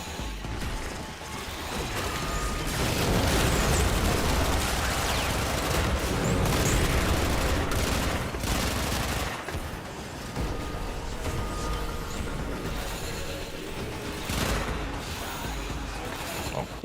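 Gunfire from the video game Warframe, a dense, continuous barrage of shots and impacts near the player with a few louder crashes, running through the whole clip under game sound.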